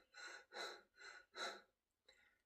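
A person demonstrates rapid, stressed breathing, four quick close-miked breaths in an even rhythm, then a pause and one softer breath.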